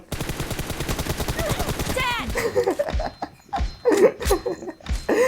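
Rapid automatic gunfire from a mobile shooting video game in a one-on-one duel, fast even bursts for two seconds, then scattered shots and game sounds as excited voices talk over it.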